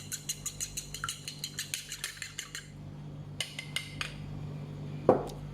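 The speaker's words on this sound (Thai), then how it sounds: "ตีเป็นไข่เจียวค่ะ" Eggs beaten for an omelette with a utensil striking a bowl in a quick, steady rhythm of bright clinks, slowing into scattered taps toward the end, close and alone without talk.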